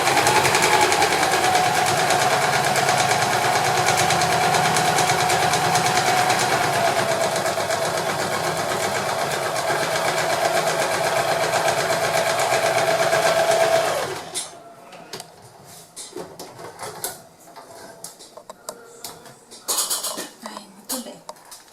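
A sewing machine runs a straight seam in one continuous fast whirr for about fourteen seconds, then stops, leaving faint handling clicks and rustles of the fabric.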